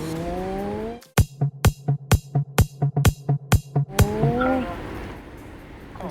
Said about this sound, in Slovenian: Veš kak avto se je zdajle pripelil, stari moj